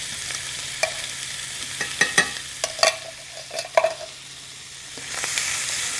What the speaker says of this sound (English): I'm going to give this hash a head start